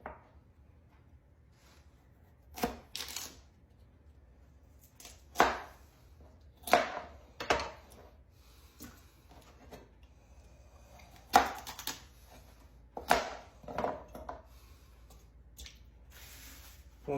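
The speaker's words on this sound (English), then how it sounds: "We're going to rip them in half and then we're going to cut them in half again." Carrots being cut with a knife on a board for birria tacos, a series of sharp, irregular chops spaced a second or two apart, close and clear against a quiet room.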